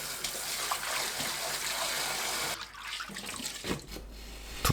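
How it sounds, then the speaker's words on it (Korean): Running water splashing as peeled butterbur stalks are rinsed after soaking, a close, fairly quiet gush that breaks off midway and returns as short splashes. "30분 후 머윗대를 물에 헹굽니다."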